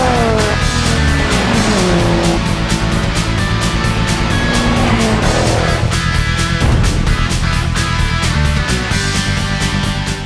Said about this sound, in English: look at that Corolla go, man. He just shot off the line like he was in a catapult.